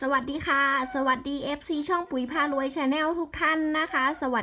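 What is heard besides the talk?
None of the usual background noises is heard.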